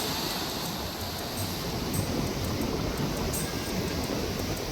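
Sea waves crash on the shore at Kanyakumari, a continuous broad roar of surf with wind, close and loud throughout without any talk.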